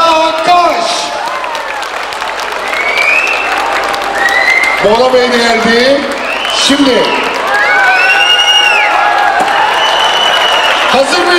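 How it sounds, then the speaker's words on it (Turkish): Audience applause and cheering at an Izmir film premiere gala in a shopping mall, loud continuous clapping with shouts and whoops, while a voice speaks over the crowd. "Kocaman alkışlar rica ediyoruz."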